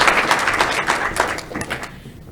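A brief burst of audience applause at a university graduation ceremony, dense clapping from a crowd that fades out within a couple of seconds.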